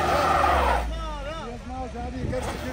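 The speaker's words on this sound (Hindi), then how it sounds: "आप देख सकते हैं पूरी स्लिप मार रही है गाड़ी" A car's wheels slip and skid on a mountain road near Pahalgam, a loud rush of tire noise giving way to a wavering engine whine as someone talks over it.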